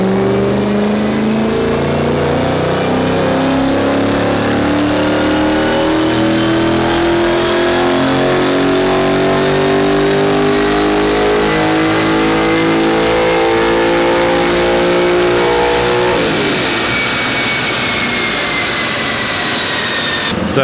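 An Audi S4 engine revs hard on a dyno run, a loud sustained wide-open-throttle drone climbing steadily in pitch before dropping off near the end.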